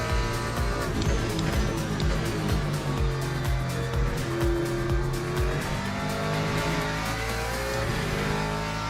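A Ford Mustang drives a lap with a constant loud engine drone, rising and falling revs, and tire squeal through the corners, with no talking.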